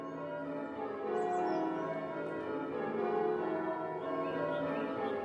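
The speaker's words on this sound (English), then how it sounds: "Here he learnt and loved the very English art of bell ringing." Bells ring at an English village church, a steady, resonant peal that carries on for the whole stretch with no voices over it.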